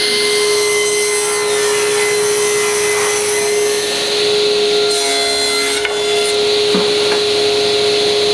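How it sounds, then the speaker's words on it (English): A power saw cuts old birch wood to size for nightstand frames, running loud and continuous with a steady high whine, its pitch shifting as the blade moves through the board. "I start by cutting some of my old birch to the right dimensions."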